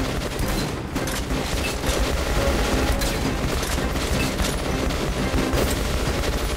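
Heavy bursts of gunfire and booming shots in the shooter game Metro: Last Light fill a loud, continuous, chaotic battle soundscape with no speech.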